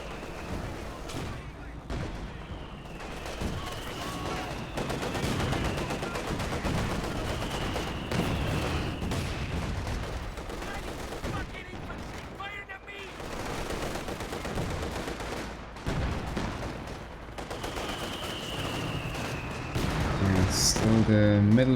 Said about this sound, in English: We have another Werfer barrage coming in as well.